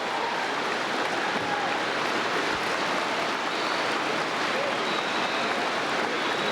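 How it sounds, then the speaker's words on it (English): Enthusiastic crowd at a 1978 presidential town hall meeting in Bangor, Maine, a continuous, dense roar of applause and cheering filling the hall at steady loudness from start to finish. "As you can hear, the crowd is definitely enthusiastic."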